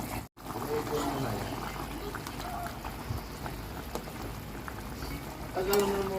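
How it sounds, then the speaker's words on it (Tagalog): Potatoes simmering in a pot of pork giniling calderita give a soft steady bubbling and trickle, faint and close, with a brief clink near the end. "ipaluto muna natin yung ating patatas."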